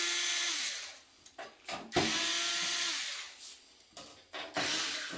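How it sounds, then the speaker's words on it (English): A power screwdriver backs screws out of the rear panel of a Toshiba fax machine, with several short whirring bursts separated by pauses and a few clicks of handling, close by. "by pulling all the screws out."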